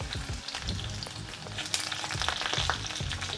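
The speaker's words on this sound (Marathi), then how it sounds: "आता आपण कढईमध्ये थोडंसं तेल घालून घेऊयात बरं का फणसाच्या भाजीला थोडंसं जास्त तेल लागतं त्याच्यात मोहरी त्याच्यात आपण लसूण घालूयात" Mustard seeds and garlic sizzle in plenty of oil in a wok (kadhai) while jackfruit curry is being started, a steady close frying hiss with small crackles and pops throughout, no talking.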